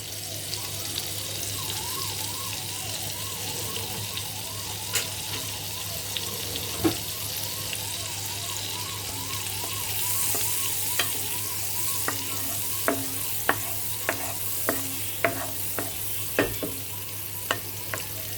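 Half a teaspoon of oil and a knob of butter sizzle steadily in a pan for shahi paneer gravy, with a constant soft frying hiss and several sharp clicks and taps of a utensil later on.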